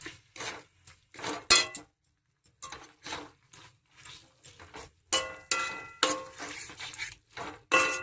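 Mutton fat is stirred in a cooking pot with a spoon, giving repeated scraping, clinking strokes with short pauses between them, close and fairly loud, with light sizzling underneath.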